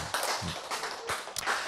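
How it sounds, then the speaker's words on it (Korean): A few people clap briefly and softly in a lecture hall, with scattered, uneven claps heard over about a second and a half. "박수."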